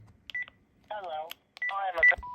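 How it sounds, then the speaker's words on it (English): Panasonic KX-TG6524 cordless phone answering machine giving short electronic beeps and tones between bursts of synthetic voice prompts, ending on a steady erase tone, close and clear. "This does have the erase tone that we hear on the 2020 and later models."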